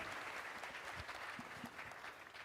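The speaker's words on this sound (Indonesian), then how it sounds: "Tepuk tangan untuk Pradita Dirgantara." Applause from an audience at a school inauguration ceremony for a new senior high school, a steady dense patter of clapping hands lasting throughout, moderately loud and continuous without talk.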